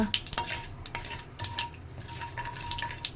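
Tempering spices fry in a pan for banana curry, with a soft, steady sizzle broken by frequent light clicks and scrapes of a spoon stirring against the metal, quiet and close.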